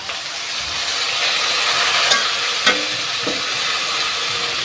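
Onions and tomatoes fry in oil in a pan, with curry leaves in the mix, for a ridge gourd stir fry: a steady close sizzle and hiss runs throughout, with a few faint clinks.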